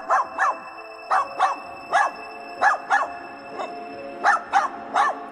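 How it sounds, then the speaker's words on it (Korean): A dog barks in a living room in the deep small hours, giving a string of sharp, loud, close yaps in quick pairs and singles spread evenly across several seconds, with no voices. "반려견 보리가 거실에서 짖고 있는 소리가 들렸습니다."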